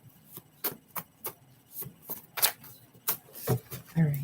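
A deck of oracle or tarot cards is shuffled by hand during a card reading, a run of quick, close riffling and rubbing bursts in a steady rhythm, with a brief voice at the end.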